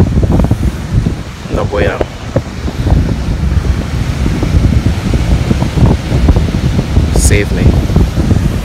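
Strong wind blowing on a beach during a clean-up walk, a steady broadband rush and buffeting against the microphone throughout, with a person speaking briefly over it.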